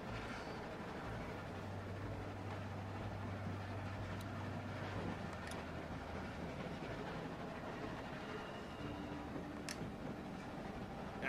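A train rolls steadily in The Walking Dead video game, a continuous low rumble with a sustained hum and faint rhythmic clatter, heard alone without talk.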